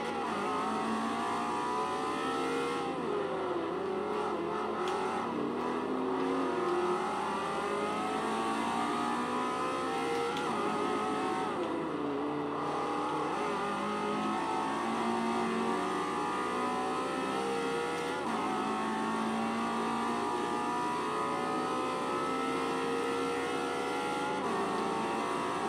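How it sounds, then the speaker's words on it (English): A Nissan GT-R racing through traffic at the Nürburgring in Forza Motorsport 4, its engine droning loud and continuous, revving up and down through repeated gear shifts for the whole stretch. "I'm racing through traffic."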